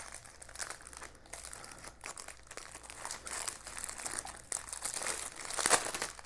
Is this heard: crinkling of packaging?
yes